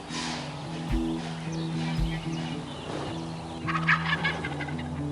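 Wild turkey toms gobble loudly in rapid rattling bursts, several calls overlapping from different distances at a timber edge, with softer clucking notes in between.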